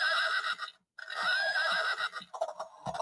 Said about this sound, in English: Is that the noise that horses make?